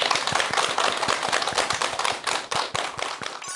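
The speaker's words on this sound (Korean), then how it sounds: "여러분 큰 박수 부탁드립니다." Listeners in a lecture hall applaud to open a talk on mental health and happiness, a close, lively burst of clapping with prominent individual hand claps in quick succession, sustained without speech.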